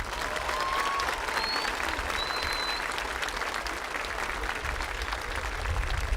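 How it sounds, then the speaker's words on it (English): An audience at the Badger High School 2025 commencement breaks into sustained applause for the graduates, a dense, continuous wash of clapping from a large crowd, steady and moderately loud throughout, with a few faint whistles. "Let's give them a well-deserved round of applause."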